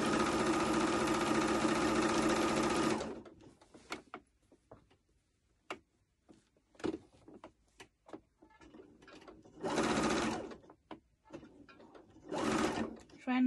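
A sewing machine runs steadily for about three seconds, stitching a peplum top seam at the waistline, then stops and leaves scattered clicks, light handling noises and two further short bursts of stitching.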